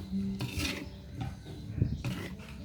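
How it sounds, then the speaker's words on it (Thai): Toasted rice being stirred into duck larb in a bowl makes close scraping and rubbing, with a few light utensil clinks, heard without any talk. "แล้วก็คนข้าวคั่วให้เข้ากันดีเนาะ"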